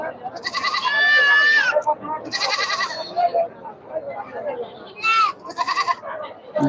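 Goats bleat repeatedly in bursts at a busy Sunday livestock market, several loud wavering calls rising over a steady crowd murmur and scattered voices.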